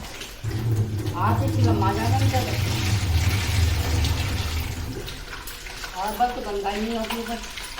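Tap water gushes steadily into a vessel while rice is washed in a home kitchen, a continuous rushing flow with someone talking over it.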